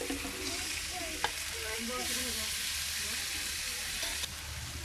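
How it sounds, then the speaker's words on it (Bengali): Fish frying in oil in a wok, a steady close sizzle running throughout with a few light clinks of a utensil. "বাকি মাছগুলো আমি একইভাবে ভেজে নিচ্ছি"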